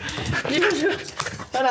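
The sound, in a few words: pet dog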